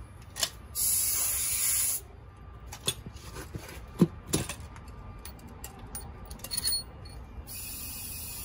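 An old air compressor pumps air into a scooter tire on a wrecked Honda Ruckus. There are short bursts of sharp hissing airflow between faint clicks and handling noises, close by and with no talk.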